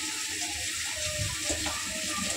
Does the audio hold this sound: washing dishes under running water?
yes